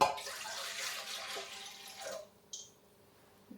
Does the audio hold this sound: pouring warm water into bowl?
yes